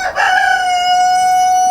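A rooster crows loudly and close by at a chicken coop, one long sustained, strongly tonal call that holds steady for over a second and a half, with no talk.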